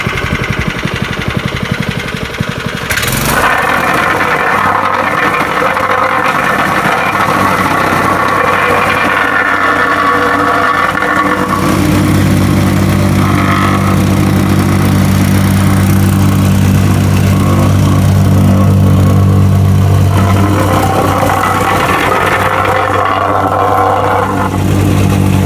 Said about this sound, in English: Now I'm ready to use the plate compactor to give it its final compaction.